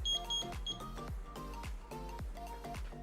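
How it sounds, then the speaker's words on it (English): A kitchen timer rings while hot dogs are being cooked, giving a steady run of bright, repeating electronic tones with a ringing, chime-like pulse, close and fairly loud throughout. "our timer's going off."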